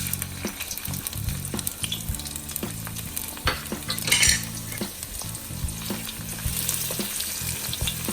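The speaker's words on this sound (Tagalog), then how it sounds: "Igisa na po siya natin hanggang konting golden brown." Garlic sautéing in hot oil in a pan for blue crab in coconut milk, a steady close sizzle with frequent metal spatula scrapes and clinks against the pan and a brief louder hiss midway.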